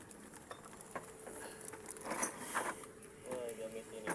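Rain patters steadily outdoors while a car transmission is refitted, with scattered drips, metallic clinks and people talking over it.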